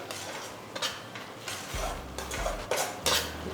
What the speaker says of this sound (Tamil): மஞ்சத்தூள் இதெல்லாம் போட்டு மிக்ஸ் பண்ணுங்கள்